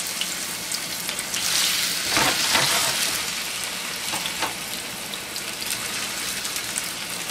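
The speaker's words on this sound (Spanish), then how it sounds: "Acá tengo una papita que la voy a freír." Steady, dense sizzling of potatoes frying in hot oil, a constant crackling hiss that swells briefly partway through, with no talking.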